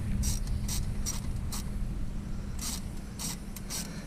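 A hand ratchet works on an engine-bay part of a 2001 Honda Accord during a short ram intake install, giving close bursts of quick clicking in several separate strokes over a low steady hum.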